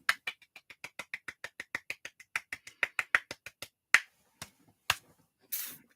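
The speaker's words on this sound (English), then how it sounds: "Auntie Anne, here's the clap just for you." A single pair of hands clapping quickly and evenly on a live stream, about twenty sharp close claps in a run, then a few slower spaced claps before stopping.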